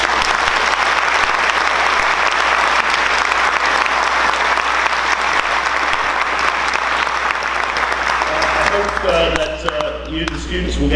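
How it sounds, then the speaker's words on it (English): Sustained applause from a large audience at a school reunion meeting in a hall, dense and loud throughout, thinning slightly at the end as a voice begins speaking. "can you please have a final round of applause"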